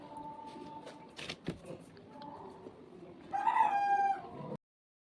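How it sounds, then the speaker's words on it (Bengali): A rooster crows once near the end, loud and close, after a stretch of quiet household background sounds with a few clatters. "মোরগ ডাকছে।"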